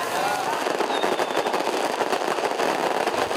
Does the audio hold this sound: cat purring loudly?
no